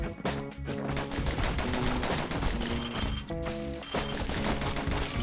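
Dueling pistols in the Bastion video game fire in rapid repeated volleys, loud and close, with a brief pause before the shooting resumes, all over background music.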